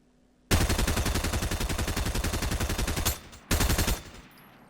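Rapid SMG fire in Fortnite, one long sustained burst followed by a brief pause and a shorter second burst, loud and close with sharp repeating shots.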